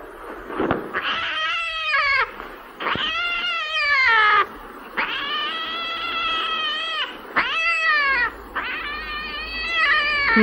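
A cat yowls and meows loudly and close by, giving five or six long, drawn-out wailing calls one after another with only short breaks, and no speech over them.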